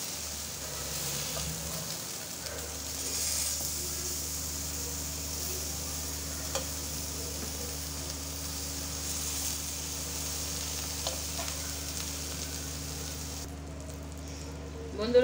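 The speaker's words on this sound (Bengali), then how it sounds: "বেগুনগুলা ভাজা হয়ে গেছে, এবার আমি তুলে নেব" Eggplant slices fry in oil with a constant, soft sizzling hiss under a low steady hum, with faint background noise and a slight clatter at the very end.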